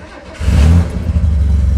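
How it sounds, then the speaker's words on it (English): A cold Chevrolet Corvair engine cranks and catches, then settles into a loud, steady low idle close by with no voices. "Press halfway down on the gas pedal, and then turn the key. With a cold engine, it should start right up."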